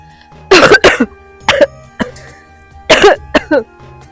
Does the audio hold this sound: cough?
yes